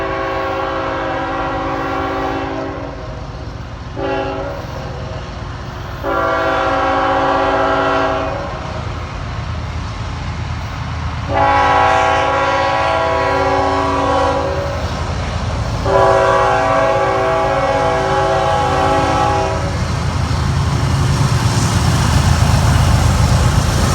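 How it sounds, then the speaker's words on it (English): A CSX freight train rolls past a grade crossing, its loud multi-tone horn blasting in several long and short bursts over the steady rumble and clatter of wheels, close and powerful throughout. "I heard a train horn in the distance and ran towards the grade crossing down the street to make a quick catch."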